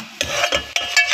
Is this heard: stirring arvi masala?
yes